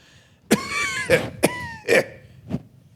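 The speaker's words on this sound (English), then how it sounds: "my friend launched into a coughing fit that involved his whole person" A man coughs and clears his throat in five harsh, separate bursts, close and loud, spaced about half a second apart.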